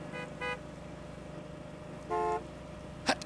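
A car horn sounds in the video game Gas Station Simulator, with two short toots and then a longer honk over a low steady hum, followed by a brief click.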